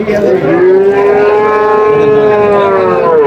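A loud, sustained cow moo with a steady drawn-out tone, close by and heard alone over about three seconds, at a cattle market in Natore.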